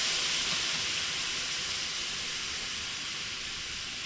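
Beef stock hits a hot pan of mushrooms and shallots, giving a steady, loud broadband sizzling hiss that gradually eases over a few seconds, with no voice over it.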